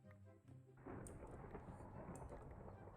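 Loud thunder crashing in a Minecraft world, a sudden broad rumble rolling in after a quiet start and staying steady with rain-like hiss for several seconds.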